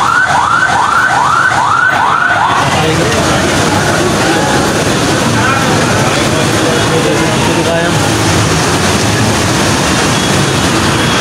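An ambulance stuck in a rainy traffic jam wails its siren in rising sweeps at first, then the sound sinks into a loud, steady roar of traffic and rain.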